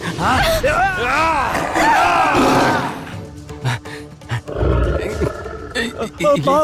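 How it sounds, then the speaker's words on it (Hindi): A big cat roars loudly and repeatedly, taken as a tiger in a Hindi TV serial scene, with people speaking over and between the roars. "लगता है बाघ आ रहा है।"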